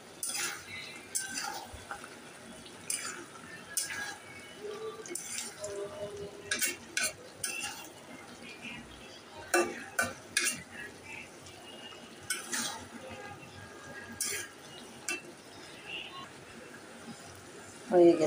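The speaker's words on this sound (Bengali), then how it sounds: "সবগুলো দিয়ে একটু নাড়াচাড়া করে" A spoon scrapes and clinks around a pan of prawn and okra curry with coriander leaves. The stirring gives irregular taps over a soft, steady background throughout.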